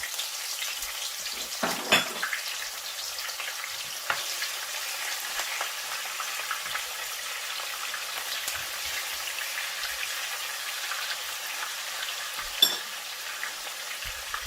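Onions and salt sizzle in a hot pan for a Nigerian stockfish stew, a steady crackling hiss with sporadic louder pops and stirring scrapes, close and continuous with no talk.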